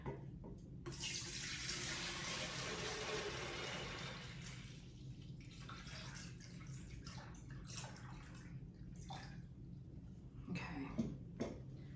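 Hot melted CocoBright wax, over 200 degrees, pours steadily into a container for wax melts, a continuous liquid rush that trails off into a few faint trickles and splashes near the end.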